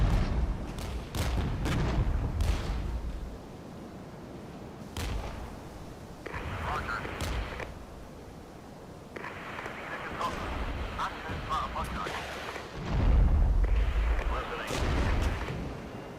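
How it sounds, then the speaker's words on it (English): Artillery fire in the video game Regiments: heavy booming impacts and sharp shot cracks come in irregular clusters, some loud and close, others duller, while someone talks over much of it. "And artillery is actually hurting a lot."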